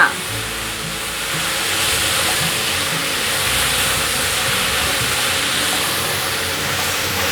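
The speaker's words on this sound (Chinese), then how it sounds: "现在放入杏鲍菇， 继续翻炒。" King oyster mushrooms stir-fried in a pan with yellow pepper and carrot, a steady close sizzle and hiss continuing without a break throughout.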